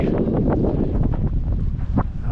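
Wind blows hard outdoors, buffeting the microphone with a continuous loud, rumbling roar that stays steady throughout.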